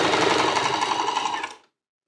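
A sewing machine stitches fabric for a stand mixer cover, giving a steady, loud, close mechanical whir for about a second and a half before it winds down and stops.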